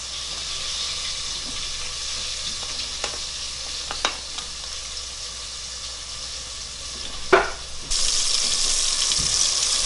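Potatoes and onions sizzle in a pan with a steady frying hiss, broken by occasional scraping stirs and clinks, close and moderately loud, the sizzle swelling louder near the end.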